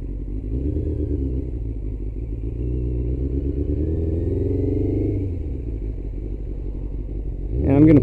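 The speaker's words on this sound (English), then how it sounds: "It is the coolest motorcycle ever." A 2000 Kawasaki ZX6R motorcycle engine drones steadily while being ridden, a loud, close, continuous hum that shifts pitch slightly mid-ride and swells at the end.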